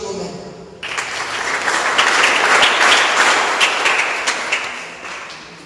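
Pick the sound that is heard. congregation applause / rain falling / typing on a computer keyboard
congregation applause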